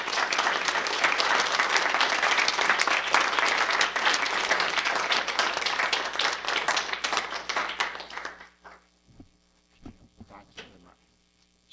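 A crowd in Fort Worth claps loudly for speaker Virgil Goode, thick steady applause for about eight seconds that then drops off abruptly, leaving a few scattered claps and a low room hum.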